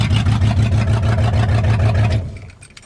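A 1973 Ford F350 truck engine idles loud and close with a steady low throb, then shuts off and dies away into quiet clicks.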